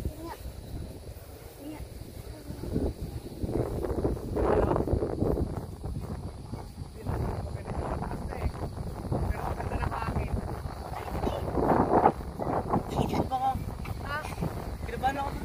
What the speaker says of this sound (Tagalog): Oh, kita nyo guys, ang lakas ng hangin.